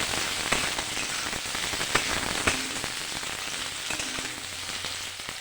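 Chopped onions and a ground onion spice paste fry in a pan, giving a continuous soft crackling sizzle with scattered sharp pops. There is no talking.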